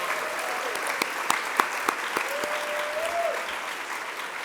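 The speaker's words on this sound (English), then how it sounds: "Give him a round of applause." A conference audience claps steadily, a dense wash of applause with a few sharper claps standing out.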